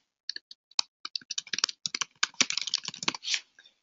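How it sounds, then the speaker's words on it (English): An email address is typed on a computer keyboard as a close, quick run of crisp keystroke clicks, irregular at first and then faster and denser, with no talking. "I'm going to type in the entire email address that I would like to add"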